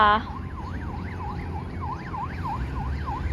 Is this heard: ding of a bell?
no